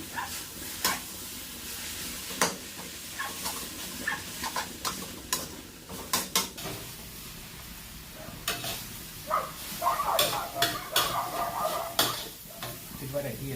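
Sour bamboo shoots stir-fry in oil with a steady sizzle, broken by repeated sharp scrapes and clacks of the utensil against the pan, and voices come through faintly now and then.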